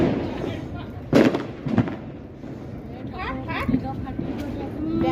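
Firecrackers bursting at a New Year's Eve night picnic, with several sharp pops scattered over a few seconds, moderately near, while people and children talk and call out throughout.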